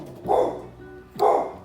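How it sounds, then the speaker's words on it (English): Dog barking indoors in a kitchen after a delivery arrives, two loud bursts about a second apart, each a short cluster of barks. "gonna bark because we just got a delivery"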